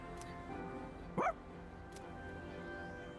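A dog in the video game Persona 3 Reload lets out a single short bark or yip over a steady bed of game music, clear and close.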